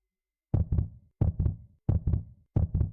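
A video game heartbeat effect: four evenly spaced double thumps, lub-dub pairs, each deep and close, separated by short silences, with no voices.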